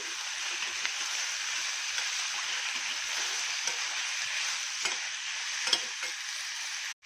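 Kasuri methi and fennel seeds fry in a pan, a soft, even sizzle holding steady with a few faint stirring taps, quiet and close, then cutting off abruptly at the end; no talking.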